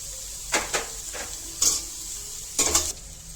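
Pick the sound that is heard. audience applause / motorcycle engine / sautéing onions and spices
sautéing onions and spices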